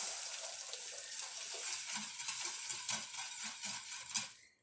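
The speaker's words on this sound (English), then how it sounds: "I think I just added about 2 cups of hot water" Hot water from a kettle pours steadily into a saucepan for a golden chai tea, a continuous close splashing hiss that tapers off and stops near the end.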